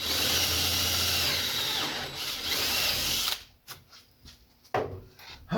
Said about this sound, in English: Let's drill a whole new hole.